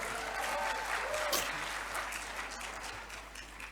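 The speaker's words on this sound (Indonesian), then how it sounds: "tepuk tangan dulu semua." Crowd applause rises at once and holds steady, a broad wash of many hands clapping, then slowly thins out toward the end with a faint voice underneath.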